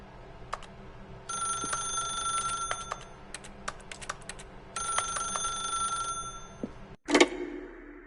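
An old-style telephone bell rings in a video game, two long bursts of rapid metallic trilling separated by a pause amid scattered clicks, ending abruptly with a loud clatter as the receiver is lifted.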